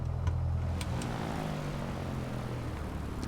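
A Piper PA-28 propeller engine runs on the ground in Microsoft Flight Simulator 2024 before taxiing onto the runway, giving a steady, low throbbing drone at moderate level throughout.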